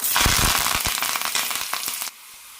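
Mustard seeds with fenugreek popping in hot oil for an okra tamarind curry, a loud dense crackle of sharp spattering pops up close, dropping off abruptly near the end.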